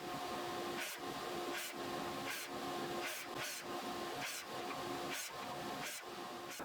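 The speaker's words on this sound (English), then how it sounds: "I'm just going to cut everything to 16 7/8 of an inch here at the miter saw." A miter saw cuts 2x4 boards to length in a repeated pattern, with about nine short, sharp bursts at roughly even intervals over a constant loud motor drone, close and without talk.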